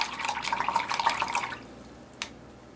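An old paint brush rinsed under running water, a close trickling stream splashing for about a second and a half, then a single faint drip and quiet.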